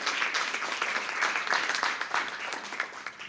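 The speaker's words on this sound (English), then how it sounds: "Please give her a round of applause as she comes forth" Steady applause from an audience at a Tiger Bay Manatee County gathering, a dense wash of many hands clapping at even loudness throughout, with no talk over it.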